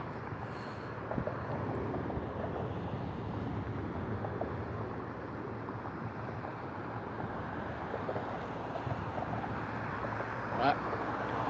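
Outdoor wind buffets the microphone in a constant low rumbling roar that masks everything else, loud and unbroken throughout.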